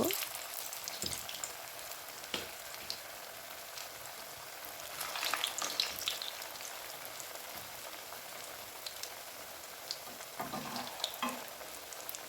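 Semolina pithe cooking in white oil in a pan over low to medium heat, giving a faint, steady sizzle with soft crackles and a few louder bursts of frying noise, with no one talking.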